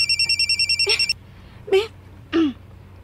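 A telephone bell rings in a repeated pulsing burst for about a second, clear and close, then stops; a few short vocal sounds follow in the quiet room.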